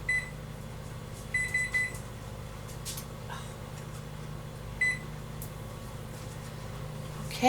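A kitchen oven timer gives a few short, clear electronic beeps in a quiet room, two quick bursts early and another a few seconds later, while a tamale pie bakes.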